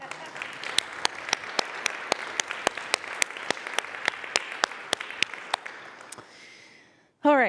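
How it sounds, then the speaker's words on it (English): A congregation at a Sunday service bursts into applause, many hands clapping steadily for several seconds before the clapping fades and a voice begins speaking at the very end. "So a round of applause for all of you."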